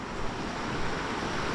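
A rain-swollen river, a tributary of the Jamamú, rushes steadily nearby in a rural area, giving a dense, unbroken roar with some wind noise and no talk.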